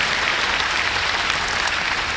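A church congregation claps for God, the applause dense and steady as a loud, even wash of hands that fills the whole space without a break.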